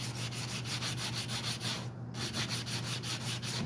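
Steady back-and-forth sanding strokes scour surface blemishes and scratches off a Husqvarna 245A chainsaw handlebar, a close, loud, rhythmic rasp with one brief pause near the middle.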